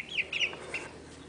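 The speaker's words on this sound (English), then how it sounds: "more larger chickens, these are Americanos" Americana chickens in an indoor animal room give several short, high clucks and squawks over about a second, fairly close and clear with nothing else sounding.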